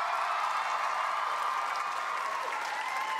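A studio audience at a 2011 telethon Minute to Win It challenge keeps up a continuous roar of cheering and applause, dense and unbroken throughout.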